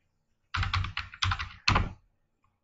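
Quick bursts of clacking keystrokes on a computer keyboard while typing HTML code, close and clear, in three or four short clusters with quiet gaps.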